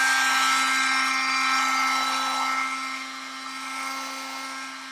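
A heating tool warms edge banding tape with a steady, loud whirring hum and a constant mechanical whine, fading slightly toward the end with no talk over it.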